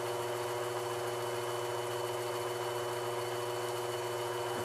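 A lathe runs steadily while cutting a wooden stanchion post made from dowel, giving a constant dense hum with sustained tonal whine and no talk.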